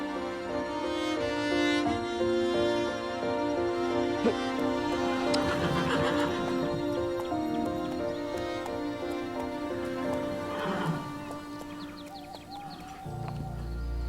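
A horse whinnies loudly and repeatedly, the sharp neighs carrying over a busy outdoor farmyard with other livestock faintly around; no one speaks through it.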